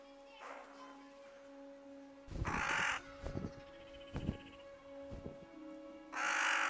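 Crows in the Congo rainforest give several loud, harsh caws in irregular bursts, close by, over a steady hum of insects and distant forest birds.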